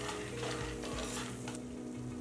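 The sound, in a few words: cumin and garlic roasting in hot pan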